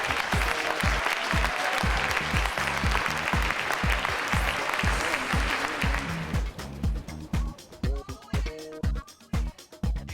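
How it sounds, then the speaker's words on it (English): An audience at a community award ceremony claps loudly and steadily, the applause thinning out toward the end, while a voice speaks over the last few seconds. "let's give every one of these award winners a big round of applause."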